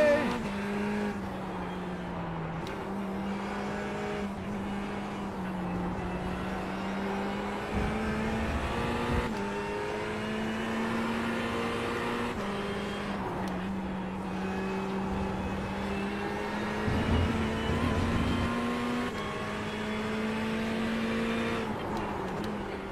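Race car engines wail continuously in a close battle, a Ferrari closing in from behind, the near engine note rising and dipping through gears with other cars' tones layered underneath, loud and constant throughout.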